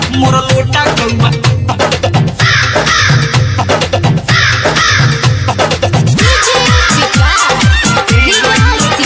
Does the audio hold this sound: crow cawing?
yes